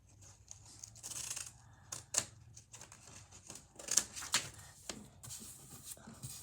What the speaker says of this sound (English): Now I have to cut them into rectangles.